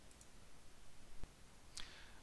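A single sharp mouse click near the middle, quiet and close, during a Windows Server 2012 DHCP installation wizard, with a faint tick or two around it and no talk.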